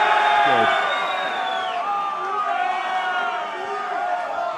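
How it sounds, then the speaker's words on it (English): A live show audience for a Lions v Australia rugby preview in Sydney cheers and whoops loudly, the crowd noise tapering slightly over a few seconds. "If you think Brian O'Driscoll's our Maverick, give us a cheer."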